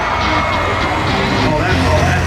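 A crowd at a school bus figure 8 race event gives a brief, weak cheer, a diffuse wash of voices and murmur heard from a distance.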